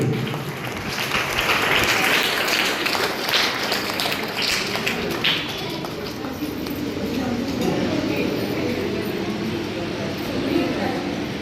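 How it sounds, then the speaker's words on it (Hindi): Sustained loud applause from an audience of children and adults as a consolation prize is presented at a traditional cultural workshop, a dense crackling clatter filling the whole stretch, steady throughout, with voices mixed in underneath. "एक बार जोरदार तालियां प्राची के लिए।"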